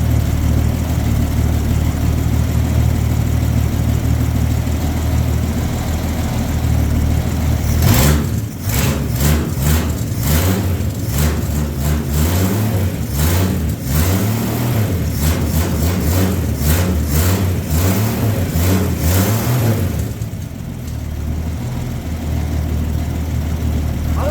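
A severely rusty 1965 Mercury Comet, long out of service, runs with a loud, steady engine drone, then revs up and smooths out in a burst of rapid pulsing before settling back toward a rough idle.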